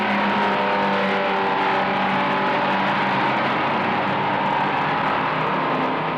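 A Cobra Daytona Coupe race car engine roars steadily and loudly through a 260-degree hairpin at Daytona, a continuous throaty drone with slight pitch shifts and no pauses.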